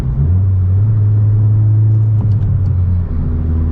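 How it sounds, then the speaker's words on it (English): A 2020 Honda Civic Si engine idles high and loud after a rev, the drone holding and only slowly dropping in pitch instead of settling quickly, showing rev hang. "I definitely think that's rev hang"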